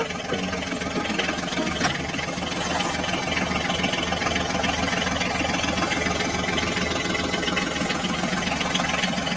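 A small toy tractor motor drones steadily with a rattling, buzzy hum, close and continuous with no pauses, driving through sand.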